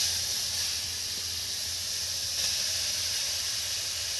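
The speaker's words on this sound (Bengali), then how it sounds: "গাজরগুলো আমি গ্রেট করে রেখেছিলাম সেইগুলো এবার এর মধ্যে আমি দিয়ে দেবো" Grated carrots hit hot ghee in a pan and give a steady, even sizzling hiss that stays constant and fairly soft throughout, with no talk.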